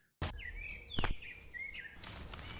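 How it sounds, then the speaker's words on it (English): Bird chirps used as an added ambient effect in a cinematic edit, a few thin high calls over a soft steady background after an abrupt start. "as soon as you add in like sounds like these birds chirping"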